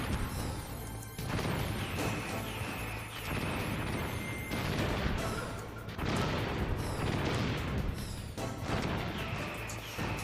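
Gunfire in Metal Gear Solid on PS3, with a dense run of loud, sharp game shots and crashing impacts packed together for ten seconds over a busy, continuous game soundtrack.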